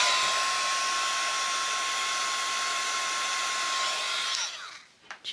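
A heat gun blows over UV resin lapel pins with a steady, close airy whine, then switches off and winds down with a few clicks, and no one speaks.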